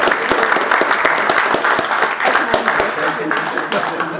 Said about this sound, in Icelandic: við skulum gefa þessum 3 ungu konum gott klapp